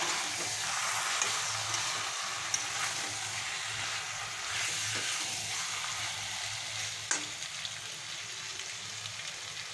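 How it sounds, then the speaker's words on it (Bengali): Mutton fat and potato pieces with meat masala fry in a pan, giving a steady, dense sizzle with occasional stirring scrapes, close and continuous throughout with no talk. "এখানে আমি মিট মশলা একটু দিয়ে দেব, দিয়ে এটাকে আমি ভালো করে এখন কষে নেব।"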